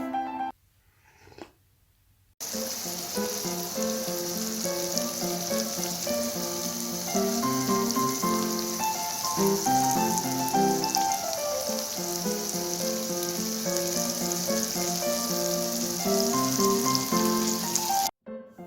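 Anchovies fry in oil in a pan outdoors as a steady crackling sizzle runs under background music for most of the clip, after a brief quiet opening.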